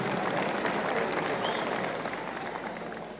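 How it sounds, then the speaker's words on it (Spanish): A crowd applauding for mayors at a public event on regional funding and sports games in Chuquisaca, a dense burst of clapping that gradually fades over about three seconds. "Un aplauso para alcaldes."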